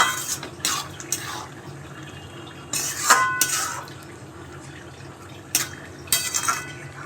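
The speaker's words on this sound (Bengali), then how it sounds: "ঘি দিয়ে দিলাম খুবই হালকা করে এর মধ্যে" A light pour of ghee into a pan of tarka fry (Bengali spiced dal) on the stove, with a few short liquid splashes and soft clinks scattered across several seconds against a quiet background.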